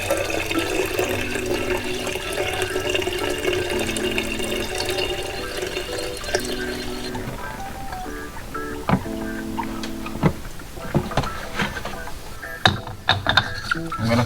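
Distilled water pours into a BMW coolant system with a steady gurgling flow, then stops, followed by close clicks, knocks and handling sounds as the filler is worked on.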